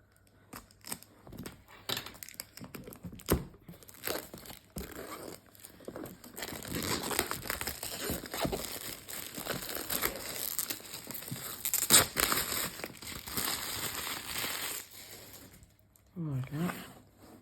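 Scissors cutting and tearing open the well-wrapped box packaging of a cross-stitch kit, with crinkling, snipping and crumpling in bursts that grow denser and louder midway, up close and without speech.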